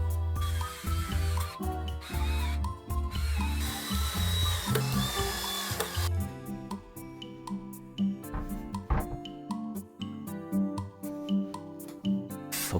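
A power drill whirs in bursts, driving 3.8×55 coarse-thread screws into pilot holes in wood for a speaker stand, with rising and falling motor pitch and brief pauses between runs.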